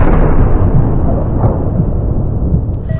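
A loud, booming gunshot from the hunting video game Cabela's Big Game Hunter 2012, with a dense low rumble that fills the whole moment with no talk over it.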